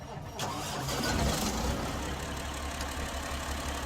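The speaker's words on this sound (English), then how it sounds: "engine on" A truck engine in the SnowRunner video game cranks and catches, then settles into a steady low idle rumble that continues at a moderate level, with no one talking over it.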